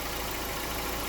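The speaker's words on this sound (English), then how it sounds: "Gonna have to keep the engine running." A 2001-06 Chrysler Sebring engine idles steadily in a short, fairly quiet stretch of even, continuous running, with no voices.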